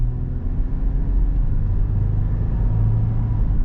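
A 2023 Toyota 4Runner SR5 accelerates, heard as a steady, loud low engine drone and road rumble from inside the cabin, with the pitch rising slightly near the end and no talking.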